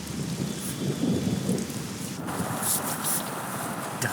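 Heavy rain pours steadily on a wet afternoon while thunder rumbles low, louder in the first half, then eases into a constant hiss of rain.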